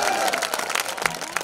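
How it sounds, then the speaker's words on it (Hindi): Audience applause at a mushaira, an Urdu poetry gathering held during an urs at Kurum, Akola, with dense clapping and a murmuring crowd in a brief, steady burst. "एक मर्तबा जोरदार तालियां बजाएं"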